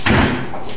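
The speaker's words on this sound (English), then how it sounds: "Achilles, go shut the door." A dog pushes a door shut indoors, producing a single close thud as it closes, followed by a short fading rumble.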